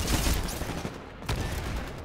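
Constant gunfire rattles through a Titanfall match: dense, overlapping bursts of automatic weapon fire with a sharp crack near the middle, loud and continuous with no speech.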